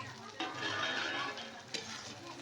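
A spoon stirs chopped tomatoes and turmeric in a pan, giving soft, close scraping and shuffling over a faint, steady sizzle.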